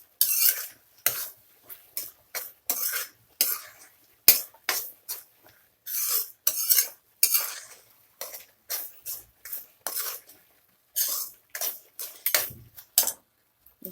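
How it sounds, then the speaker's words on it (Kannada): Carrot halwa being stirred in a pan with a spoon, short scraping strokes repeating in an uneven rhythm with brief quiet gaps between them, close and fairly crisp, with no voices. "ಮಿಕ್ಸ್ ಮಾಡ್ಕೊಳ್ಳಿ."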